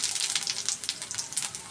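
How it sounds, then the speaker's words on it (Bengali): Cumin seeds sizzle and crackle in hot oil left over from frying fish, a close, steady hiss with rapid popping spits, alone without talk. "মাছ ভাজা তেলের মধ্যে আমি দিয়ে দিব জিরা ভাজা"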